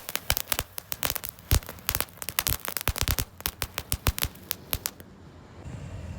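A lit butterfly firecracker fizzes and flies, giving rapid sharp crackling bursts in an irregular, close, loud stream. The crackling stops abruptly near the end and quiet outdoor ambience follows.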